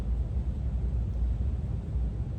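Muddy, boomy sound boosted around 250 Hz, a dense steady low-mid wash with no clear detail, moderately loud and continuous.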